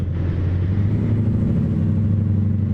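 A Caterpillar 3208 diesel engine in an International F 5080 truck in American Truck Simulator drones steadily as it pulls uphill under load, a deep continuous rumble with no change in pitch and no talking.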